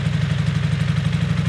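The engine of a rebuilt Honda CB250 Super Dream motorcycle idles at the exhaust, giving a loud, close, steady low rumble with a quick rhythmic pulse and light mechanical clatter.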